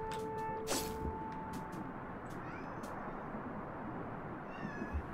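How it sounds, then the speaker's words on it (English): A pet cat meows several times near the microphone, a few short cries over a steady background hum of game sound. "Oh my god, my cat."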